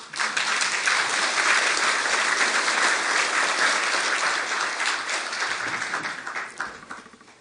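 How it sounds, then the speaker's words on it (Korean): Sustained audience applause at a Kwanhun Club debate welcoming the Saenuri Party emergency committee chair, a dense, steady wash of many hands clapping that holds loud for several seconds and then thins out and fades toward the end. "큰 박수로 맞아주시죠."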